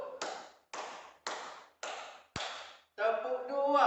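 A teacher claps out a classroom clap pattern, five sharp, close hand claps at a steady even pace, followed by a voice speaking.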